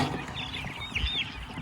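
Meat chickens cluck and chirp close by in a coop, a steady murmur of soft clucks with a couple of higher calls standing out.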